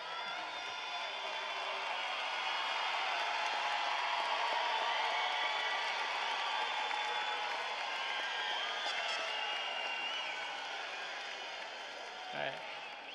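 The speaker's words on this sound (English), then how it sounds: "stand up, and give them a big round of applause" Friends and family in the audience at a 2018 cyber charter school commencement give a big round of applause: dense, sustained clapping that fills about twelve seconds before easing off near the end, with faint voices mixed in.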